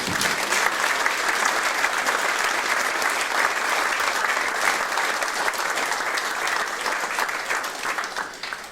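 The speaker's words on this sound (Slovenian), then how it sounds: "En aplavz še prosim za vse." An indoor audience at a third-age university festival in Slovenia gives sustained, even applause, a dense crackle of many hands that continues for several seconds before tapering slightly at the end.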